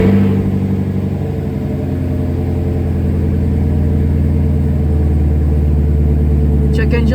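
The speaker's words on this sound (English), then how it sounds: "So I'm just going to give the car a quick crank and hopefully it's all off." A cold 2021 Chevrolet Camaro SS 1LE V8 runs with a deep, loud, steady rumble close by, holding an even idle throughout.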